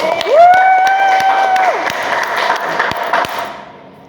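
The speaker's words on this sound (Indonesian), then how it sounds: "Tepuk tangan untuk kita." A classroom group claps together in a short, loud burst that thins and fades away, with a brief steady tone sounding over the first part.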